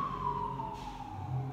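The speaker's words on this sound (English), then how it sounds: "Sorry about the sirens, guys." A city emergency vehicle siren wails steadily and fairly close, one long gliding tone that drifts slowly downward over low traffic rumble, with no talking.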